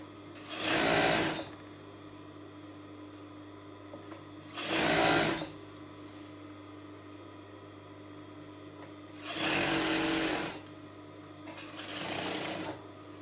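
A sewing machine stitching a cushion cover with a zip runs in four short, close bursts of fast whirring, separated by pauses of quiet hum.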